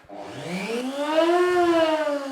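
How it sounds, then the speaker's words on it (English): A wood router motor starts from an NVR switch in a workshop. Its whine rises sharply and then holds at a loud, steady pitch, with no talking. "I'm just going to leave the router switched on and then we can work it from here"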